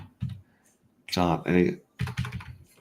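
Bursts of typing on a computer keyboard, with quick clustered key clicks in separate runs broken by short pauses, close and fairly loud.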